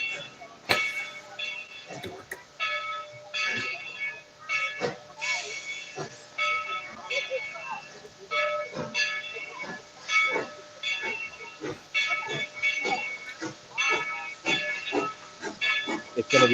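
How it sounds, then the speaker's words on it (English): A steam train at Dollywood rolling past a road rail crossing, with rhythmic chuffing bursts and hissing steam, bell-like tonal ringing over the top, heard at moderate distance. "We get to watch the train go by."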